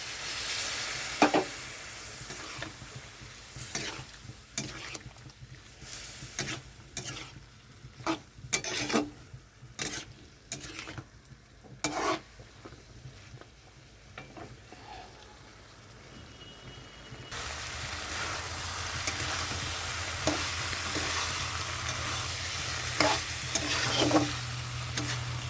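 Ash gourd and prawn curry cooks in a pan after a little water goes in, a steady sizzle and bubbling hiss under repeated scraping clinks of a spoon stirring, the frying growing louder and denser toward the end.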